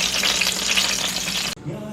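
Fennel browning in a hot pan, a steady bright sizzle and crackle of frying that cuts off abruptly near the end, leaving only quiet room tone.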